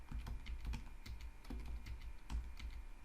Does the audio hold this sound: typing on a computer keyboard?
yes